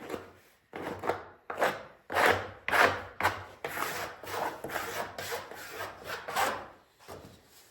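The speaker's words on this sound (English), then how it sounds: "We don't want to sand it too much. We just want to clean it." Old barn door wood is sanded and cleaned by hand in a series of rhythmic rubbing strokes, close and moderately loud, each pass swelling and fading with short pauses between.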